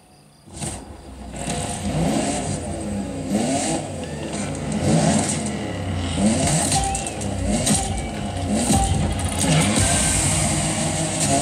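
A Toyota GR Supra engine revs hard in The Crew Motorfest, loud and close, rising and falling through repeated throttle surges and gear changes with no talk.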